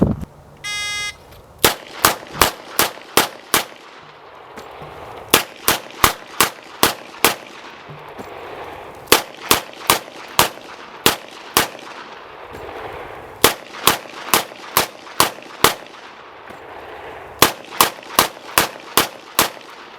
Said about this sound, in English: he fired 30 rounds from a 6-shot revolver, simply discarding it as it emptied and retrieving another from his book bag